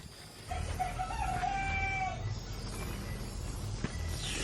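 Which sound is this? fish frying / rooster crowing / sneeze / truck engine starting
rooster crowing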